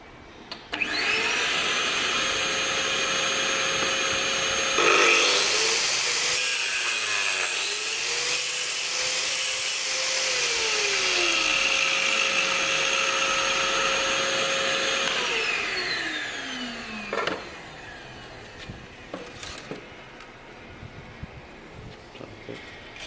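A vacuum cleaner drones steadily for about fifteen seconds while working with a tile jig, its pitch swelling and shifting as it runs, then winds down, leaving scattered clicks and knocks from handling the assembly.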